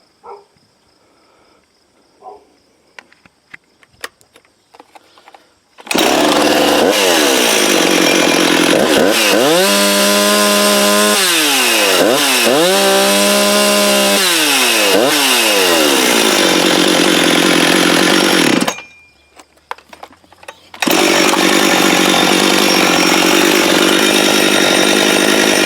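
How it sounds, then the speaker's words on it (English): A Husqvarna 357xp chainsaw runs loud and close, revving up and down in repeated surges and holding a steady roar, with a brief drop to near silence before it picks up again. "I guess it's a running saw."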